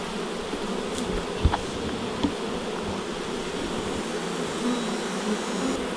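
Honeybees fan at the hive in a continuous close buzzing drone, with a few faint clicks over the steady hum and no talk.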